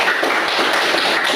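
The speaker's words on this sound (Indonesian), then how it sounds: "Tepuk tangan untuk semuanya." A classroom of students applauds with dense, continuous clapping that sounds close and loud for a short burst.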